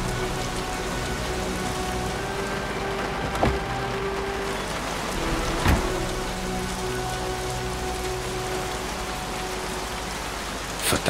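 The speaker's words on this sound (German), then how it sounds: "Verdammter Regen, ich bin klatschnass." Steady rain falls in the video game Heavy Rain, a constant dense hiss of drops hitting surfaces, with a few louder thuds and splashes standing out.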